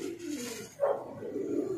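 A high-flyer pigeon gives a short, soft coo close by, a single low murmuring call in an otherwise quiet moment.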